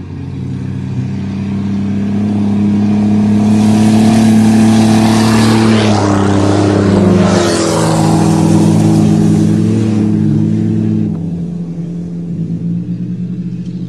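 A turbo Volvo 760 and a Buick Regal 3.8 race across a field, loud rumbling engines revving and accelerating together, swelling as they pass close by and then fading.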